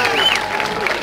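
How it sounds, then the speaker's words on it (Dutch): A crowd applauds after the decision at a kickboxing match, with steady clapping beneath a loud announcer's voice for a brief moment. "En natuurlijk ook even sportief applaus voor de zijn tegenstander Younis Rasho"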